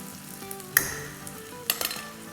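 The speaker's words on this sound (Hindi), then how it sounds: "इस पॉइंट पर हम भीगे हुए चावल डालेंगे जो कि 2 कप है" Two cups of soaked rice go into a hot pan with lightly browned ingredients, giving two sharp sizzling bursts followed by gentle frying and stirring.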